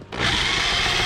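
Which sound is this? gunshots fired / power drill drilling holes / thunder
power drill drilling holes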